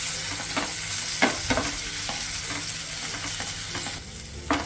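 Chopped tomato with ginger garlic paste fries in a pan for capsicum rice, giving a steady close sizzle broken by several scraping strokes of a spoon stirring the mixture, no speech.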